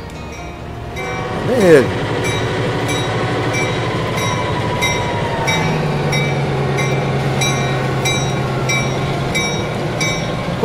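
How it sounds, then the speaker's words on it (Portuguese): A long freight train departs in Transport Fever, rumbling and clacking steadily with a short horn or squeal early on and a sustained engine drone, while someone speaks briefly. "vamos ver esse trem saindo"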